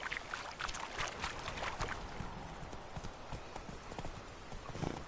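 Roach the horse galloping in The Witcher 3, a quick rhythmic clip-clop of hooves running steadily under faint background ambience.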